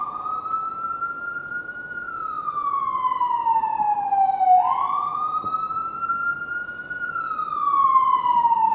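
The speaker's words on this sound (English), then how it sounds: "The siren's really going" A loud siren wails in long, slow rising and falling sweeps, continuous and close, over a low traffic rumble.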